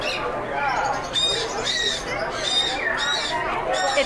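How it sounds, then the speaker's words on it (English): A toy bird at a bird expo gives repeated sharp, shrill squawks, several bursts over a few seconds, set against a busy background of crowd chatter and nearby voices. "It's not a real bird, it's just a toy."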